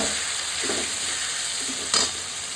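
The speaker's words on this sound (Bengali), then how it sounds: "সমস্ত কিছু ভালো করে একটু কষাবো।" Spiced pointed gourd and prawns being stirred and sautéed in a pan, a constant sizzle with a few soft spatula scrapes and a short louder stir near the end.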